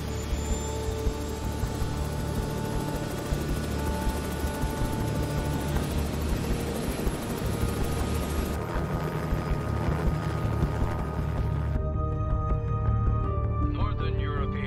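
An aircraft taking off in an action film, heard as a loud, steady broadband engine roar that fills the whole clip and thins out near the end.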